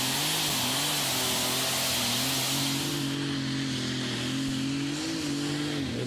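A turbocharged IH 466 engine in a pulling tractor at a tractor pulling event, loud and continuous, droning at a steady pitch with slight rises and falls as it works.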